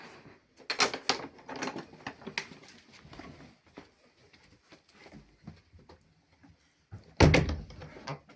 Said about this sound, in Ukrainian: Це двері в хату.